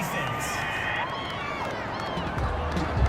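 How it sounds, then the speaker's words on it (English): Home crowd in a Madden NFL 21 divisional playoff game between the Steelers and Browns, cheering a defensive pass interference call: a broad, steady roar of spectators swelling slightly at the end, with commentary talk over it. "This home crowd, they're happy with that call."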